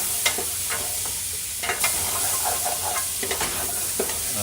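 Bacon, leeks and vegetables for a potato soup frying in a pot, a steady crackling sizzle with scattered sharp pops and scraping stirs, close and continuous.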